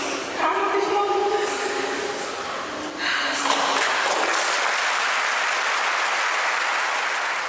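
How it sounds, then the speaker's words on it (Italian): Long sustained applause rises from a crowd as a coffin leaves a church at a funeral, a dense continuous clapping that swells after a few seconds and holds steady. "Un lungo applauso ha accolto il feretro di Annalisa"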